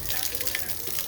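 Water gushes and splashes in a steady stream onto plants for a moment, close by, with a faint hiss throughout.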